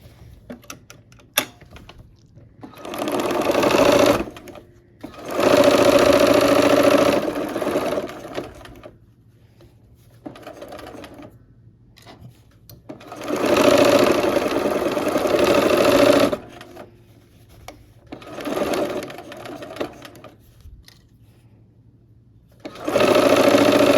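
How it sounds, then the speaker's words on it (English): A domestic sewing machine stitches the final seam of a Christmas quilt block in several loud bursts of steady running whir separated by short pauses, with faint handling noise in between and no talk. "now we'll sew this last seam"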